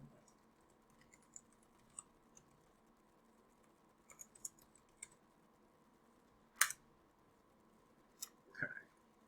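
Sparse, faint computer keyboard typing in a quiet room, scattered light key clicks with a few louder isolated taps near the end.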